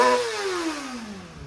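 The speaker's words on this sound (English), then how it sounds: "this is what it sounds like with your standard mufflers, right? Nothing impressive." A Kawasaki ZX6R on its standard mufflers revs and then winds down, the engine pitch sliding smoothly lower over a second and a half with a fairly mild, unremarkable tone and no voices.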